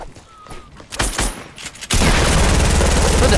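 Rapid video game gunfire starts abruptly and keeps going as a dense, loud, continuous volley, after a few scattered shots and noises.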